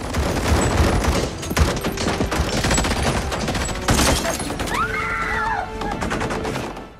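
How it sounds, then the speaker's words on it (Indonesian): Gunfire in an action film as a man on a crane shoots at gang members, a dense rapid fusillade of close, loud shots with a brief groan and narration-free battle noise. "Lalu Mike yang akhirnya bisa naik ke kren pun langsung melepaskan tembakan ke arah Samidi CS."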